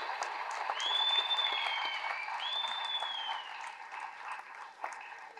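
Applause from the audience at a book launch event for a Deputy Chief Minister's birthday, steady clapping under two long whistle-like tones, gradually thinning toward the end.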